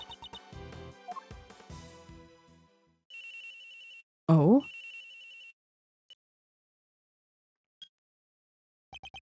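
Phone ringing in the video game Ace Attorney Investigations II: a bright electronic ringtone sounds in a few repeated bursts after a stretch of game music and a brief spoken exclamation, then fades to silence with a few faint blips.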